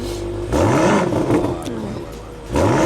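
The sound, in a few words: BMW car engine revving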